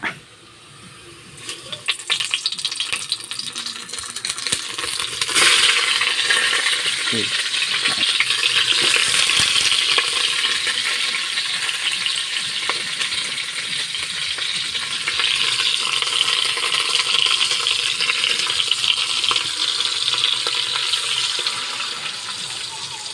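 Onion and garlic sauté in a pan, a steady hiss of frying that starts quietly and swells to a continuous sizzle after a few seconds, with faint clinks of stirring and no talk.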